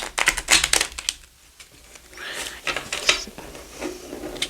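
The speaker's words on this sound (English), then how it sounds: "So I can't really shuffle properly." Tarot cards from a new Raven's Dream deck being shuffled by hand, awkwardly, giving uneven bursts of papery riffling and rubbing, close by, with quieter shuffling pauses between, and no talk.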